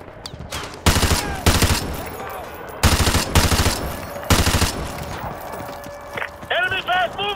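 Rapid automatic gunfire in the Call of Duty Modern Warfare 2 Remastered video game, loud and close in three or four distinct bursts, with shouted voices near the end.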